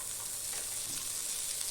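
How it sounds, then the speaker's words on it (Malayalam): Fish frying in butter in a hot grill pan gives a steady, bright sizzle that runs evenly and close up, with no voices over it. "ബട്ടറിലാണ് നമ്മൾ പൊരിക്കുന്നത്."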